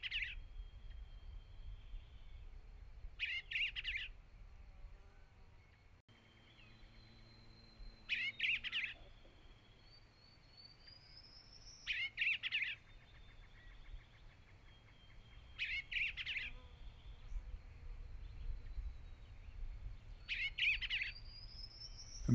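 Bluebird song: a bird repeats brief, bright, warbling phrases at roughly four-second intervals, moderately near against a quiet outdoor background with a low hum, and no voices.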